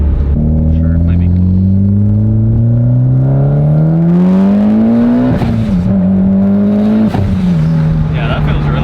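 A tuned 550 whp Mitsubishi Evo X revs hard on a dyno, its loud engine note climbing steadily in pitch and then dropping sharply with a blow-off valve's whoosh, followed by a second shorter release.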